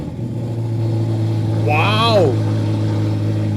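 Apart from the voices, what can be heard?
Ferrari Roma V8 engine starting up in race mode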